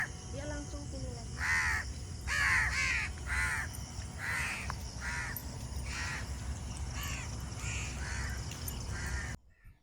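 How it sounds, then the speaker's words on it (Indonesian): Many crows caw in repeated harsh calls, loud and fairly near, in rhythmic bursts over a steady outdoor background near rice fields, with a person talking between and under the calls. "Suaraku kalah nggak sama suaranya burung gagak itu. Burung gagaknya banyak sekali ya."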